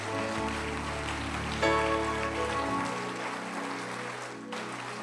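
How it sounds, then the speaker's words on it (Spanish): A church congregation applauding, a dense wash of clapping that continues steadily with sustained music tones and a few louder swells. "Dale un mejor aplauso al Señor Jesús."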